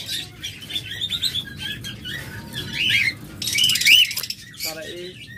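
Pet lovebirds or budgerigars in a cage chirp and squawk in bright, overlapping bursts, some close and shrill, with a brief louder flurry partway through and a faint voice in the background.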